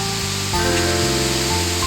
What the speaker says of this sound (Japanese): ちっちゃい滝があるん、あるわ